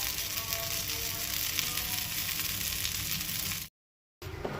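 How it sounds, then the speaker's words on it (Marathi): Fish frying crisp on both sides in a pan for a Goan muddoshi fish fry, a steady loud sizzle with no talk, cut by a brief silence near the end. "अशें ते दोनूय सायडींनी बरें चरचरीत भाजून घेवपाक जाय।"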